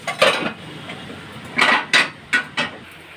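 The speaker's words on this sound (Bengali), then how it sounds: "এবার একটু গরম জল দেবো, দিয়ে চাপা দেবো।" Metal clatter on a cooking pot of potato and cauliflower fish curry with hot water added: a few sharp clinks and knocks of a lid being set down, close and fairly loud.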